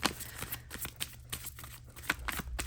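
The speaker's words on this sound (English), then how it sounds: "this old canvas does not sound very nice when I shuffle the cards on it" Tarot cards riffled and shuffled against an old canvas, a string of quick papery bursts repeating steadily at close range with no talking.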